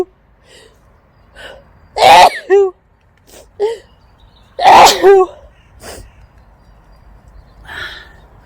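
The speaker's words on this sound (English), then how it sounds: "I'm going to sneeze." Two loud, close sneezes burst out a few seconds apart, each preceded by softer breathy sniffs and throat sounds, in an otherwise quiet room.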